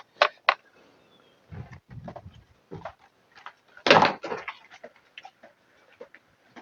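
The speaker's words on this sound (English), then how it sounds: "now opening the door in the back." The back door of a house is opened, heard as a run of sharp clicks, a handle rattle and scraping knocks, moderately close, with quiet gaps between the bursts.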